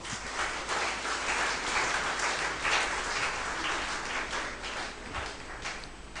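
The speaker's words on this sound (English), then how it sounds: "Shall we give him another clap?" A church congregation at a Methodist service in Ghana gives sustained applause for a bishop, a dense, fairly distant wash of many hands clapping that holds steady throughout.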